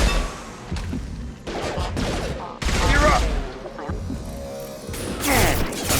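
Gunfire in a Mass Effect battle, loud bursts of automatic weapon fire and crashing impacts in rapid fusillades, with brief pauses between volleys and game voices mixed in.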